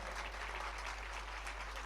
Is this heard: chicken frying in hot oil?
no